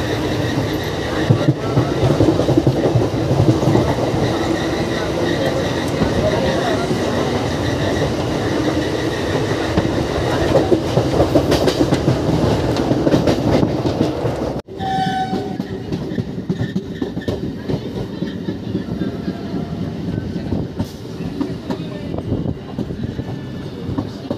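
A MEMU local train heading to Bardhaman Junction rumbles steadily along the rails with rhythmic clattering and a loud, continuous mechanical roar, with a brief horn-like tone partway through.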